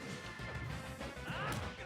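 King Dedede's down smash in Super Smash Bros. for Wii U lands as a dense crashing hit, with a brighter swinging impact near the end over steady game noise.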